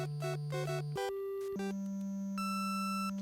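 The Super Mario Bros. level transition jingle: a chiptune-style rapid run of bright synth tones that shifts pitch and settles into steady sustained notes, alone with no talking.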